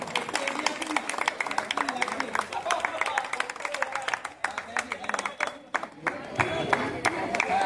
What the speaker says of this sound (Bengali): অজয় বারুই একবার জোরে হাততালি হয়ে যাক অজয়ের জন্য।